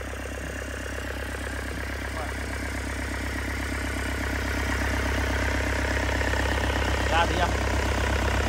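A Yanmar 4TNV98 turbo diesel engine, original and unmodified, powering a cutting machine, idles steadily with a low, even rumble throughout, close by, while people talk briefly over it.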